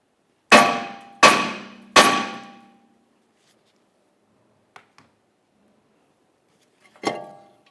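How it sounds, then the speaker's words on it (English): Hammer strikes on a stuck front brake rotor of a Toyota Corolla, three sharp metallic clangs with ringing decay in quick succession, then faint small knocks and one more ringing hit after a pause. "If it's stuck in place, you can use a hammer and lightly tap along this edge."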